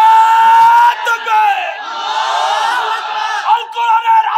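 A large crowd at an Islamic political gathering roars a takbir chant in unison, loud and sustained shouting that swells and ebbs over several seconds, with a single high voice standing out at the start and end.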